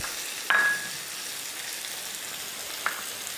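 Koi fish frying with onion, chilli and tomato crackles in a steady soft sizzle, with a couple of sharp clinks of a utensil against the pan, no voices.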